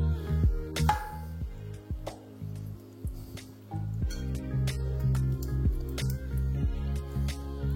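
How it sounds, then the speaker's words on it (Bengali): Chicken pieces are marinated by hand for chicken pulao, with wet squelching and squishing as the meat is pressed and turned in the spice mix, close and continuous. "আমি একে একে চিকেনগুলোকে এখানে ম্যারিনেট করে নেবো"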